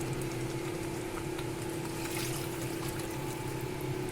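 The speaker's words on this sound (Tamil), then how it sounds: "கொஞ்சம் தண்ணியை விட்டு" Water is poured into a pan of chicken cooking in a Sunday-special home kitchen, a steady low hiss and rush with a constant hum throughout, no talk.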